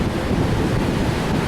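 Strong wind blows steadily outdoors, a loud continuous rush buffeting the microphone with no voices.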